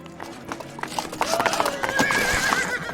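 Heavy black draft horses pull an imperial omnibus along a riverside quay in Paris, their hooves clip-clopping steadily amid street bustle, with a horse whinnying partway through and people talking in the background.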